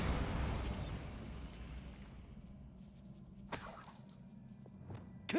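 A Bombarda blast spell goes off in Hogwarts Legacy with a rumbling burst that fades, then a sharp crack a few seconds later and a brief thump at the end, with no talk over it.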